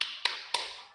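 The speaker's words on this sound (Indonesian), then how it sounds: "sekarang coba kita berikan tepuk jempol untuk kelompok 1 yang diwakili oleh kepala sekolahnya" A group doing a rhythmic thumb clap, three sharp taps evenly spaced with quick decaying ring, close and brief.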